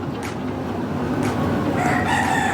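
Chickens cluck and crow in a busy, continuous chorus, with a rooster's call standing out near the middle and end, fairly close.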